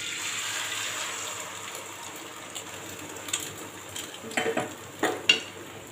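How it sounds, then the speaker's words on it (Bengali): Maggi noodles fry in hot oil in a heated wok, giving a steady sizzle and hiss with a few sharper clinks and scrapes toward the end, no one speaking. "তো তেল গরম হয়ে গেছে, এর ভেতরে আমি এটা ম্যাগিটা দিয়ে দেবো"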